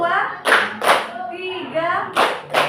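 A room of teachers claps in unison to a count, sharp group claps landing one at a time in a slow rhythm, with a voice counting between them.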